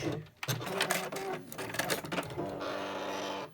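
A sewing machine runs a short quarter-inch seam through quilt triangle pieces, its motor whirring in close, fast bursts with brief pauses between stitching runs.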